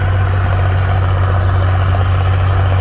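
International 756 tractor with a freshly swapped engine, idling steadily close by with a deep, constant low rumble and even throb, loud and unbroken throughout with no talk.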